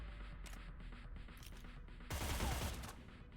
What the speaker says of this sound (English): Yep, one person heard the gunfire.